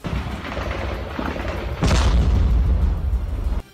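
A loud explosion goes off close by amid fighting between Ukrainian and Russian forces, a sudden heavy boom that rolls on for more than a second over constant battlefield noise and ends abruptly.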